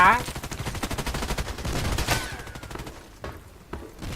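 Rapid automatic rifle fire in the online shooter Contract Wars, AK-12 bursts crackling densely and then thinning into scattered single shots, loud and close, with faint talk mixed in.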